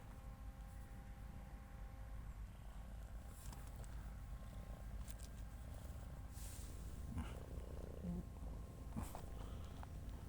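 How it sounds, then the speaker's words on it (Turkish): A cat purrs softly and continuously in a quiet outdoor spot where several cats gather, a low steady rumble with faint background noise and occasional small clicks. "Her yerden kedi geliyor."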